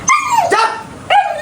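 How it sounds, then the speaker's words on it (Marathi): A dog barks three times in quick succession, loud and close, with sharp yelping tones and no other sounds around it. "कुत्रा डेंजर आहे रे बाबा."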